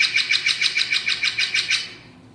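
A bird's weck call recorded in the field: a rapid, evenly spaced series of about a dozen bright, clear notes lasting around two seconds, loud and close, then fading away.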